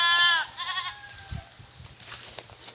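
A goat on a grassy farm lets out one loud, wavering bleat at the start, followed by a fainter second call and quiet rustling and shuffling nearby.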